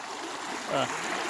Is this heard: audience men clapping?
no